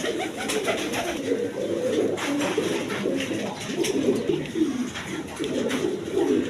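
Large male Gopalganj pigeons cooing in repeated throaty, rolling calls, several birds overlapping close by against a faint background hum.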